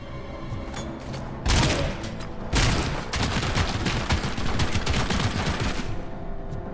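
Rapid machine gun fire rattles through a Robocop: Rogue City firefight, dense sustained bursts with a few heavier booming volleys, loud and close with no talk.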